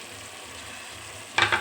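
Chopped tomato and green chilli hit a hot pan with a soft steady sizzle, then two quick bursts of stirring scrape and crackle near the end.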